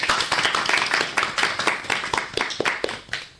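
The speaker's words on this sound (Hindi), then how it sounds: "तब तो आप लोग के लिए भी तालियां बजनी चाहिए।" Schoolchildren from Sophia Senior Secondary School clap together on a radio programme, individual hand claps standing out in a quick, fairly rhythmic patter that stays close and loud before trailing off at the end.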